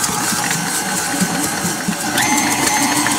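An electric mixer creams shortening for cake batter, giving a steady, close whirring and rattling that runs throughout without a break.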